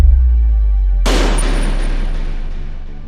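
A loud explosion bursts in as Metal Gear is destroyed in Metal Gear 2: Solid Snake, cutting over a low synth drone with a sudden broadband blast that rumbles and slowly decays over several seconds.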